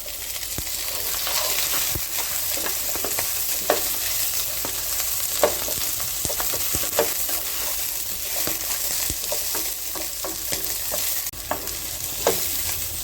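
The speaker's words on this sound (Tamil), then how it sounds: "நல்லா வெங்காயம் ஓரளவு வதங்கினதும் இது கூட குடமிளகாய்," Onion and capsicum sautéing in oil in a pan with garlic, giving a loud continuous sizzle and crackle broken by repeated stirring scrapes of the spoon against the pan, with no talking.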